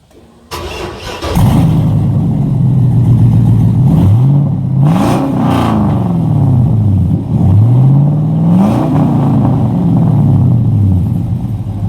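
A truck engine with a new exhaust cranks and starts, then revs up and down several times through a loud, deep exhaust, close by.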